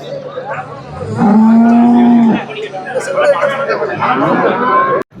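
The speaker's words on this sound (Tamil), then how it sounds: "பாருங்க எவ்வளோ பெரிய கைக்கறவை மாடு பாருங்கள்" A large milking cow gives a loud, drawn-out moo at a busy cattle market in Seenapuram, with crowd chatter and other market noise around it.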